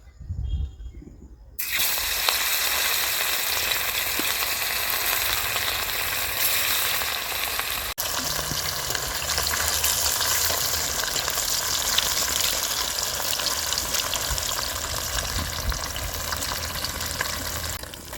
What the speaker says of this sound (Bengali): তেল খুব ভালোভাবে গরম হয়ে গেছে, এবার মাছগুলো ভেজে নেব।